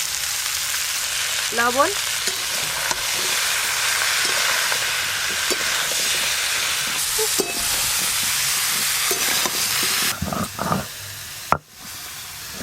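Bottle gourd pieces sizzle and fry steadily in hot spiced tempering oil with a dried red chilli, a continuous loud hiss with brief stirring scrapes and a short spoken word near the start.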